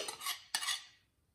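Eggs beaten with cutlery in a bowl for bugnes dough: two quick bursts of bright clinking and scraping, fairly faint and close, with no voices.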